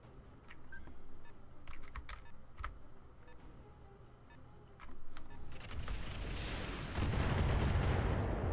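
Gunfire from mechs in the video game Roguetech, a string of sharp shots and bursts scattered through the clip, building to a louder, dense barrage with heavy rumble near the end.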